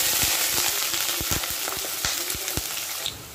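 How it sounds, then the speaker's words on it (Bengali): Sliced onions fry in hot oil for biryani's crispy beresta, making a dense, loud sizzle broken by rapid crackling pops and spits throughout. "তেল গরম করতে দিয়েছি, বেরেস্তা ভাজিয়ে নেব"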